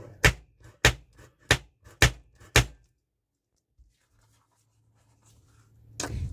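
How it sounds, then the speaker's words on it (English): An Anywhere tool blade punching through paper on a mixed media layout, five sharp, evenly spaced thunks close up, followed by quiet and a faint low rumble, with no talking. "I'm just going to use my Anywhere tool again. So I'm using the side with the blade on it"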